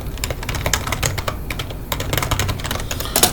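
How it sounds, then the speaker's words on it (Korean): Someone types rapidly on a computer keyboard, including presses of the delete or backspace keys, giving close, crisp clicking keystrokes in an uneven, busy rhythm with no talk. "키보드로 뭐 델리트 키를 누르던 백스페이스 키를 눌러가지고 C라는 글자를 만약에 삭제 처리를 하겠다."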